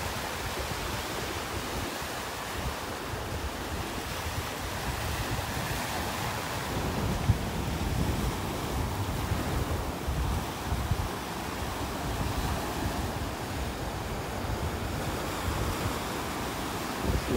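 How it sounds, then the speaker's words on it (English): Ocean surf on a North Naples, Florida beach rolls in a continuous broad roar, waves breaking and washing steadily with some wind buffeting, no voices. "it's just really relaxing there listening to the waves"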